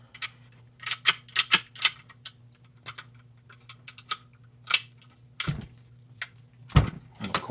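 A BRN-180 rifle bolt is worked out of its upper receiver, giving a series of sharp metallic clicks and scrapes in irregular bursts, close and dry, with a steady low hum beneath.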